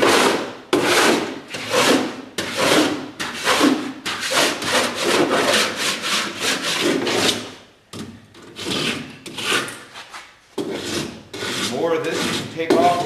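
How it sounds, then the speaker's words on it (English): A cheese-grater rasp drawn over Bondo body filler on a classic car under restoration, loud close rhythmic strokes, each a harsh dry scrape with brief gaps, repeated steadily with a longer pause midway. "More of this you can take off with the cheese grater."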